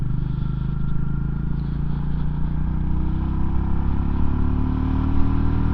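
A new Royal Enfield 350 motorcycle with only about 120 miles on it pulls hard in third gear, its engine a steady loud thrum that holds on without pause.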